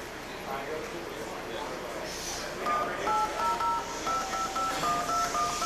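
Touch-tone keypad dialing to reach 800 information: a quick series of close, clean DTMF beeps in steady rhythm over a constant background hiss and rumble.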